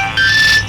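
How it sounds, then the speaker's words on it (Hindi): A short electronic phone ringtone, a bright steady tone that rises in loudness and lasts under a second. "सोनू भैया किसका फोन है?"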